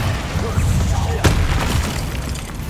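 A fire spell bursts with a sharp boom in Hogwarts Legacy, one loud burst mid-clip over a dense rumbling game soundscape and music.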